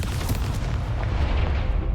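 A fire spell being cast in Hogwarts Legacy, heard as a sustained, loud, rumbling roar of flame and blast noise that fills the whole stretch, with no talk over it.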